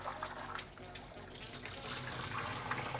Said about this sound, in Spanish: Hay que enjuagarlos bien